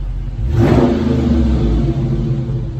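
A 2020 Dodge Charger Scat Pack 6.4L HEMI V8 with dual exhaust and mid-muffler delete revs hard once, rising to a loud roar and then holding a deep, rumbling idle close by.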